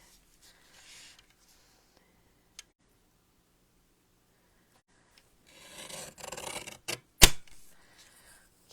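A paper trimmer slices through greeting-card stock: near-silence, then a close rasping slide of about a second and a half, ending in a sharp click. No one speaks.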